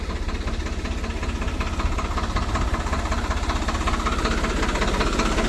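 A tractor engine runs steadily with a spray pump attached in a paddy field, a loud, even, rapid mechanical throb and rattle continuing without pause, with no talking.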